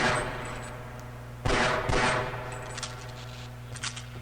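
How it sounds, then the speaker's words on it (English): Gunfire in Half-Life: Opposing Force, sharp loud shots with one burst near the start and two heavier blasts close together midway, followed by fainter clanks and a constant low hum. "So then just sneak shoot the second one when he appears."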